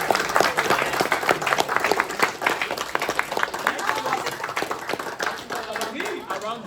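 A group claps at a Boulder race-training session, with dense, steady applause running throughout and voices talking over it.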